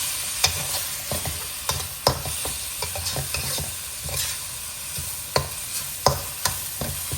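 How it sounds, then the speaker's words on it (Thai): Minced pork with holy basil and dried chillies being stir-fried in a pan, a steady sizzle punctuated by sharp, irregular clanks and scrapes of the spatula, close and with no talking. "ตอนนี้ผัดต่อให้สุกครับ"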